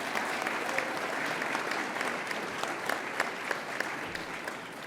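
An audience at a university senior design day ceremony applauds in a continuous, even wash of clapping that stays steady for the whole stretch.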